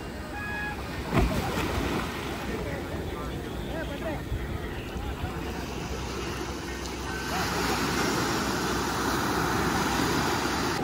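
Boat ride on open water near Udupi: steady rushing of waves and water against the hull with wind buffeting the microphone, a continuous broadband roar that grows slightly louder toward the end.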